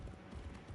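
A boar mount trots in the Fortnite video game, faint rhythmic clip-clop footfalls repeating in quick succession at low volume.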